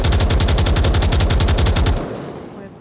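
Rapid automatic gunfire from a weapon in the VR shooter game Onward, fired while the gun is braced on a flat surface, a steady loud burst of closely spaced shots lasting about two seconds before cutting off into a fading tail.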